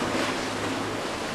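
A river in Prague rushes steadily after the 2002 floods, a broad continuous wash of water noise filling the moment with no talking.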